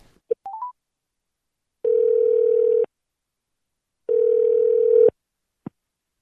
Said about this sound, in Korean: 전화 연결을 해보도록 하겠습니다